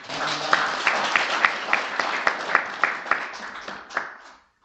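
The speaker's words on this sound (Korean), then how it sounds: "대한민국 모든 분들을 뜨거운 박수로 환영합니다" Audience applause at a youth policy seminar for youth facility staff and young people, a dense crowd clapping steadily for about four seconds with a few louder claps on top, then quickly fading out.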